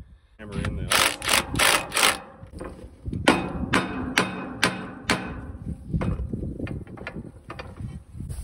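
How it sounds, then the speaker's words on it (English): A hammer strikes a metal coupler onto an irrigation pivot motor shaft in repeated sharp, ringing blows, some in quick bursts, close by outdoors, with bits of speech between. "we have to try and hammer this coupler on a little bit further"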